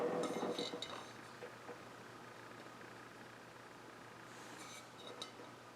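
A thrifted blue-and-white bowl is handled, giving a few light clinks and knocks at the start and again near the end, faint against quiet background noise.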